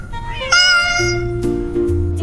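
A cat meows once in a children's ABC alphabet song, a clear, bright call set over the song's backing music.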